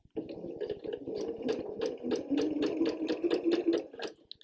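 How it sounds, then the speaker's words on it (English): Sewing machine stitching at medium speed, a close, even run of rapid rhythmic clacks of the needle lasting a few seconds before stopping. "I'm going to adjust this speed here on my machine to medium, and I'm going to begin sewing."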